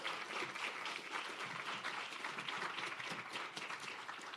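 Audience applause at the launch of an export academy, a dense, steady patter of many hands clapping at a moderate distance throughout.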